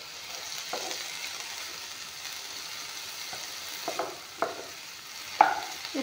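Radish leaves and two green chillies fry together in a pan, a soft steady sizzle close by, punctuated by occasional spatula scrapes and taps that grow sharper toward the end.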